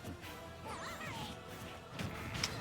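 Grenade explosion in a Super Smash Bros. match, a brief crash-like burst near the end of a busy stretch of game effects and music, with commentary talk running throughout.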